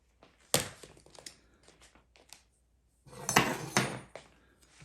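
A metal survival kit of spoon, fork, can opener and knife is handled, giving scattered light clinks and clatters, then a louder burst of metallic rattling in the second half.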